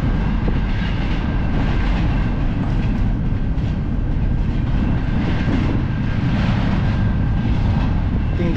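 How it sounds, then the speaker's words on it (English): A train rolls past in Chilliwack, Canada, making a continuous loud rumble with a broad rushing roar that holds steady the whole time, without voices. "You can see the train going over the other side."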